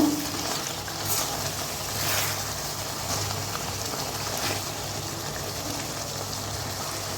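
Chicken masala cooking in a pan gives off a continuous soft sizzle and bubbling hiss, steady and close with no voices.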